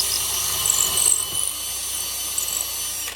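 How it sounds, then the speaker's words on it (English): A cordless power drill whines steadily at high pitch with a low motor rumble beneath, drilling into soft wood continuously for a few seconds. "Number 2, soft wood, drill."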